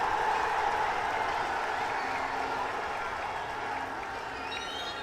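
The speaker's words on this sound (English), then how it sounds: "Look at the cheer from the crowd." Large football stadium crowd at a Pakistan vs Bangladesh SAFF U20 Championship match, a steady dense roar of cheering and clapping that fills the whole clip, distant and continuous, easing slightly toward the end.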